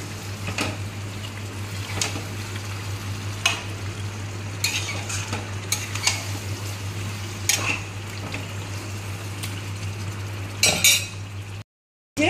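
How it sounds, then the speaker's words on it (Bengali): Chicken curry being stirred and fried in a pan, with repeated scraping clinks of a utensil against the metal over a steady low sizzle and a constant hum, ending in a short silence. "এইবারে ভালো করে নেড়ে চেড়ে কষিয়ে নেব।"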